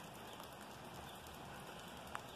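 Rain falls steadily on potted cactus plants outdoors, a dense, even patter with scattered droplet hits and one sharper drip, soft and continuous with no voices.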